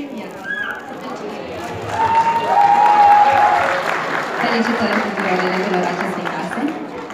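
Applause from an audience at a Romanian class 12 graduation ceremony, building to a sustained peak of clapping in a hall, with voices and a brief whistle-like tone over the crowd.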